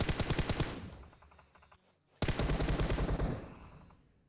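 Automatic gunfire in the PUBG Mobile video game, two rapid bursts of closely spaced shots separated by a short pause, fairly loud and alone.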